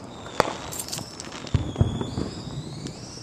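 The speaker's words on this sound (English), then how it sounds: "back again with fireworks." Independence Day fireworks bursting above trees near a pond, with a few sharp cracks and booms at moderate distance and crackling between them over a steady outdoor background.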